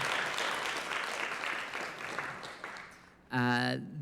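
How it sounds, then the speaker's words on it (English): Audience applause at a variety show of talks on transgender history, broad crackling clapping filling most of the moment before fading and giving way to a voice near the end. "Yes, applause all around for that."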